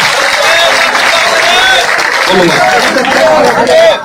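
A large crowd at a Haryana political rally claps loudly to welcome a candidate, a dense continuous roar of applause with voices mixed in.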